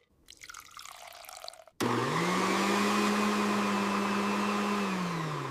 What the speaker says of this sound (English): Add 1 cup of soaked urad dal into a blender.